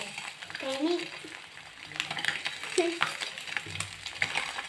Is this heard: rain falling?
no